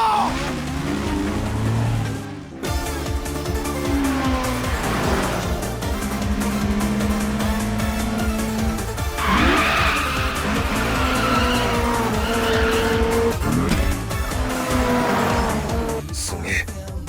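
Toyota AE86 racing in the Initial D video game, its engine roaring continuously with repeated long tire squeals and skids through corners, loud and close throughout.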